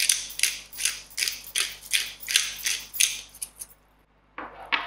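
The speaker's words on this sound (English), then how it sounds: "a grind of black pepper" A pepper grinder cranks out black pepper in about eight close, rhythmic gritty rasps, then falls silent before a final short grind.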